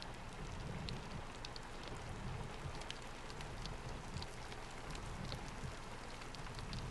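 Steady rain falling in Saudi Arabia, a continuous close hiss of drops pattering on surfaces with scattered sharper drips, with no voices.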